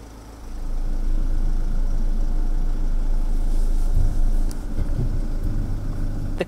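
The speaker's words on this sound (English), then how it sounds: "the car drives itself into the garage" Steady, close engine hum from a Ford self-parking car as it drives itself into a garage, a low even drone after a quieter opening second.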